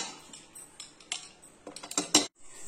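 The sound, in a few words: closing the lid of a pressure cooker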